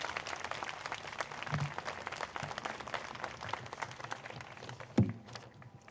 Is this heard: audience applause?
yes